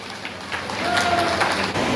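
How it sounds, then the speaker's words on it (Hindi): An ashram gathering for Guru Purnima welcomes a guest with applause. A crowd claps in a soft, rain-like wash that swells slightly and then holds steady, with no clear talk over it. "तालियों से किया जाए"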